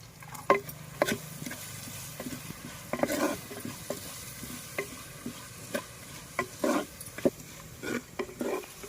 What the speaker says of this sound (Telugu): ఇప్పుడు ఉల్లిపాయ ముక్కలు వేసుకుని కొద్దిపాటు ద్వారగా వేయించుకోవాలి